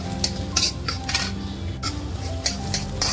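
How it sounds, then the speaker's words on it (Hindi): A metal spoon scrapes and clinks against a pan while spices are stirred and roasted over a low flame, producing irregular sharp clanks and scraping strokes with little sizzle. "इसको आप स्लो फ्लेम पे मसालों को भून लीजिए।"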